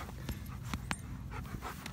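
A former stray dog pants rapidly and close by, with quick rhythmic breaths and a few soft thumps in an otherwise quiet space.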